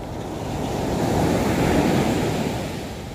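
Large ocean waves wash and roar close by on the beach at Nha Trang, a continuous broad rush of surf that swells and eases slightly, with some wind noise.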